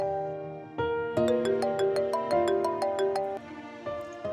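A melodic phone ringtone plays a repeating chime-like tune, steady and fairly loud, with bright synthetic notes in a regular rhythm during a dramatic indoor scene.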